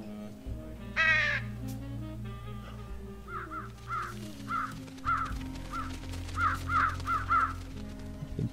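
Crows caw repeatedly in the Trüberbrook adventure game, a run of short harsh calls that grows busier toward the end, heard over a low steady ambient drone and a brief whistling tone near the start.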